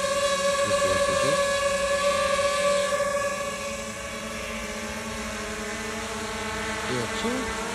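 A DJI FPV drone hovers and flies close by, its loud tonal motor whine steady throughout, easing a little partway through, with brief mechanical sweeps near the start and end.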